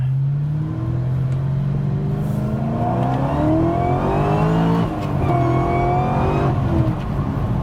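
Supercharged Dodge Charger GTS making over 700 wheel horsepower, its engine roaring loudly and steadily close by as the supercharger blower whine climbs in pitch through several pulls, with no talking.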